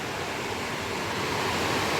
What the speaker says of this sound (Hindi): बीच में काली गंगा नदी बह रही है।